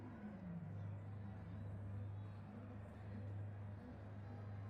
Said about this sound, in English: I'm revving it. Why am I revving it?